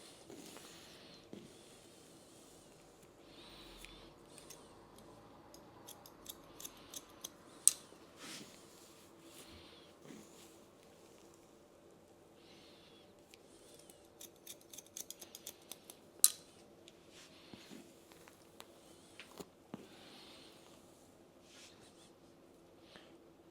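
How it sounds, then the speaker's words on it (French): Scissors point-cutting a man's hair during a layered bob haircut: quiet, close, irregular snips in small clusters, with occasional sharper clicks of the blades against a faint hush. "on coupe en piquetage"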